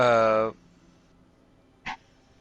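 A dog in the video game Nioh 2 gives one short, loud bark-like yelp. Near silence follows, broken by a brief faint blip near the end.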